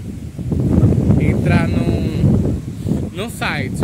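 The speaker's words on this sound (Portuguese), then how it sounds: "Tá ventando babado" Gusty wind blowing outdoors rumbles against the microphone, a steady low buffeting that runs beneath continuous talking throughout.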